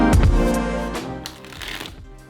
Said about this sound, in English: You can shuffle the deck all day long